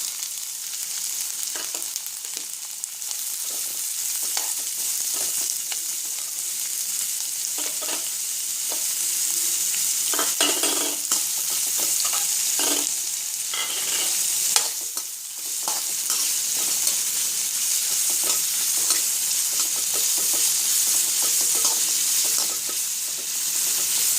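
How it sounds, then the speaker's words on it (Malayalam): Grated carrot deep-frying in a pan for carrot chammanthi chutney, a continuous close sizzle with repeated stirring and scraping strokes of a spoon, loud and steady throughout with no talking. "നമുക്ക് ക്യാരറ്റ് നന്നായിട്ടൊന്ന് ഡീപ്പായിട്ട് ഫ്രൈ ചെയ്ത് കൊടുക്കാം"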